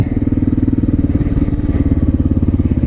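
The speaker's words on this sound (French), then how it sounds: "Et voilà le petit tour en moto." A motorcycle chugs along at low speed arriving at a garage, its engine pulsing in a fast, even putter, loud and close throughout.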